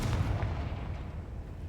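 A Confringo fire spell blast in a video game, a loud, deep booming burst right at the start that rumbles on as a low, dense roar for the rest of the moment, with no voices.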